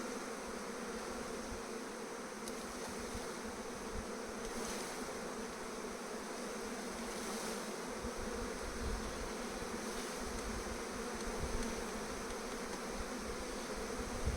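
A captured swarm of honey bees buzzing steadily at a hive, a dense continuous drone that holds close and even from start to finish, with no voices over it.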